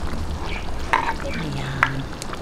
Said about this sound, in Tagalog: lutuin lang po natin yung ating carrot at patatas